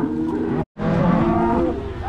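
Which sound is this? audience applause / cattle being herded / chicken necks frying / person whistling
cattle being herded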